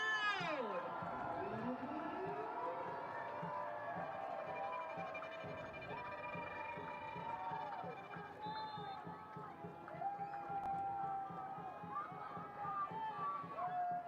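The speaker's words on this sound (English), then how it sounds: "Fans, let's cheer on your Carolina Ascent." Football crowd at a Carolina Ascent FC home match against Tampa Bay Sun FC, a sustained loud roar of fans cheering and shouting throughout, with a whistle-like tone and announcer talk woven in.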